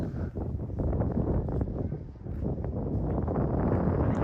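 Strong, cold wind blows at Port Credit, buffeting the microphone with a loud, steady rumbling roar that swells and dips slightly but never stops.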